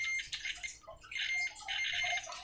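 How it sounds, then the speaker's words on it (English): A multimeter set to continuity mode beeps while testing a trace drawn with carbon conductive ink on a circuit board, giving a steady high electronic tone that drops out briefly and resumes, fairly faint. "So multimeter is now beeping."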